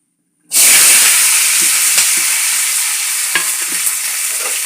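Onions drop into hot oil with an abrupt loud sizzle that keeps hissing steadily, broken by occasional soft scraping taps of a spatula.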